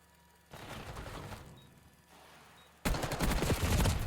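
Bursts of rapid automatic gunfire from the player's weapon in a competitive first-person shooter, a sustained volley, a brief lull, then a louder, closer stream of fire at the end.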